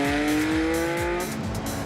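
A race car at Kyalami slides out and spins at turn 14, its loud engine note holding steady and then dropping as the tyres scrub, close and continuous.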